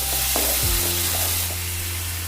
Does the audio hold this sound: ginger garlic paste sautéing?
yes